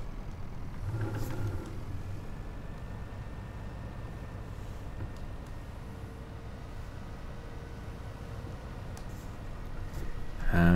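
The Lizard Roadrunner truck in Farming Simulator 19 idles with a steady, low engine rumble that holds evenly throughout, with a brief louder swell at the very end.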